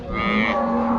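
A cow at a busy Rajshahi cattle market moos once in a long, loud, close call that holds its pitch for about a second, with no talk over it.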